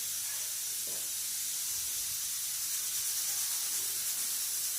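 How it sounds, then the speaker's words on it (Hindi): A pressure cooker cooking a potato and tomato vegetable curry vents steam in a steady, loud hiss that runs unbroken throughout, with no clear whistle tone standing out. "ये देखिए हमारे कुकर में सीटी आ रही है"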